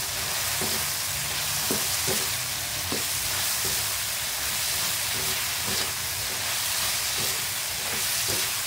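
Cooked bitter gourd (ampalaya) sizzles steadily in a hot pan as it is stirred, with regular soft scraping taps from the utensil cutting through the constant close frying hiss.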